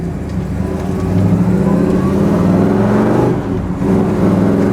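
A 1968 Chevrolet El Camino SS engine drones and revs steadily as the vehicle drives and picks up speed, loud and close, with no talking.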